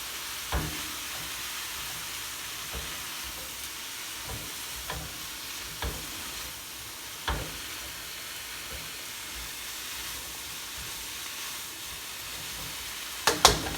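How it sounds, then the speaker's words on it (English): A stir fry sizzles steadily in a hot wok after a splash of lemon juice goes in, with a constant frying hiss broken by a few sharp clinks and scrapes of the utensil. "So I'm going to toss a little bit of lemon over. You see how you guys hear that sizzle?"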